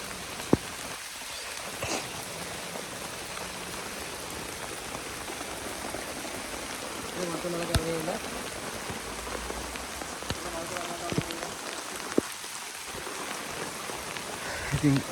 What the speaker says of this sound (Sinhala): වහිනවා.